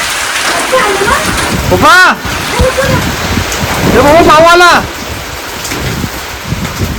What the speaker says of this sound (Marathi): पहिलाच पाऊस पडला बघा.